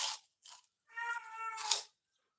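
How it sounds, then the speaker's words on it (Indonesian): Several meows from the ten cats kept at a family home, close and fairly loud, in a few separate bursts ending in one longer drawn-out call. "Di sini kucing, di rumahnya Bunda 10 kucing"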